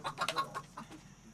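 Backyard chickens cluck in a quick, soft series of short calls at close range, with no talk over them.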